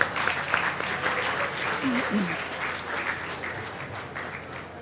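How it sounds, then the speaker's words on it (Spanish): An audience at an agricultural expo in Sinaloa, Mexico, applauds to welcome a speaker, steady dense clapping that fades slightly toward the end, with a voice speaking briefly over it. "Un aplauso, por favor"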